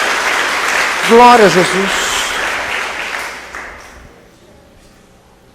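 A church congregation bursts into applause, a dense wash of clapping that swells and then fades out over several seconds while a preacher's voice rises briefly above it.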